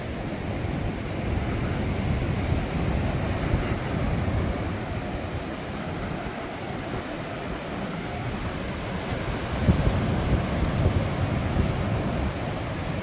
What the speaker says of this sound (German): Ja, das Meer kommt wieder